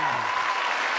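Audience applause at a comedy show, a brief soft burst of clapping from the crowd, fading within about a second, with a faint voice trailing at the start.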